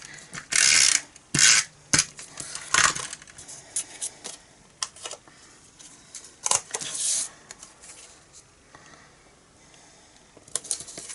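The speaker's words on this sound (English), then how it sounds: "put it through the die cutting machine" A die cutting machine running card pieces through for a gilded Christmas card, giving sharp clicking, ratcheting bursts that come and go irregularly with quieter mechanical rumbling between them, with no talking.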